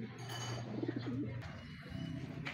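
Pigeons coo in a loft where young birds are being raised, giving soft low cooing phrases near the middle of the stretch over a steady low hum. Faint bird chirps sound in the background, and no one speaks.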